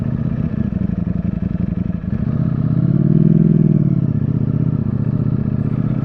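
A 2022 Ducati Streetfighter V4S rides through New York City streets on a quiet Sunday morning, a loud close engine drone that swells in pitch and volume midway, then settles back.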